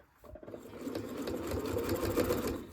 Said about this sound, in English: And sew to the corner. Needle down, turn, and away we go.